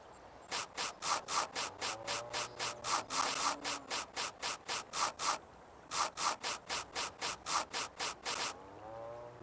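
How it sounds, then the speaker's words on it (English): A sander scrapes old paint and rotted wood off cross pieces in the video game Tonka Workshop, producing fast, even bursts of rasping strokes in two long runs split by a brief pause, with cartoonish tones underneath. "Now use the sander to clean up the old cross pieces. Scrape off all the old paint and rotted wood."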